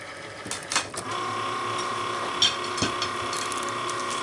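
A Cricut cutting machine works on a box top piece, its carriage whirring with ratcheting, gear-like clicks and a steady mechanical motor tone, close and alone.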